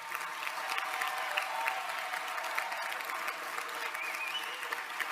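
Sustained applause from a political rally audience in honour of Brazilian comrades, a dense, steady wash of many hands clapping at close range, running throughout without a break.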